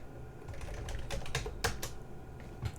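Quiet typing on a computer keyboard, a quick irregular run of soft clicks and taps heard up close with no talking.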